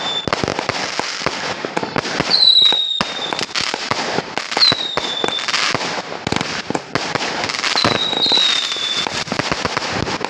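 Colour fireworks of 4-inch and 6-inch shells go off at a New Year celebration, with dense crackling bursts, repeated booms and several rising whistles, loud and continuous throughout.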